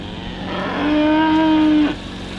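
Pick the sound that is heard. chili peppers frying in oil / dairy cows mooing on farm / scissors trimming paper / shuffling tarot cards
dairy cows mooing on farm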